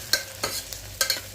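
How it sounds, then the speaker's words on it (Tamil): Green chilli and mint leaves tossed in a hot pan for a vegetable brinji, with a spatula scraping in several quick strokes over a light sizzle. Close and clear, with no voices. "சேர்த்துட்டு அதை ஒரு பெரட்டு விட்டுக்கலாம்."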